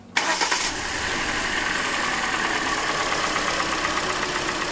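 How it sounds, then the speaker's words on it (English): A Hyundai Elantra engine with a ticking knock cranks briefly, catches and settles into a steady idle, close and continuous with no talking. "we're going to start the car now, and we will see, okay, if the tick is so noticeable."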